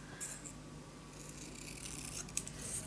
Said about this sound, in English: then I'm just gonna cut those off